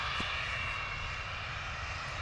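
Cessna Citation business jet arriving at Stansted Airport, a distant, faint and steady engine roar with a soft high whine, continuous for the whole brief moment.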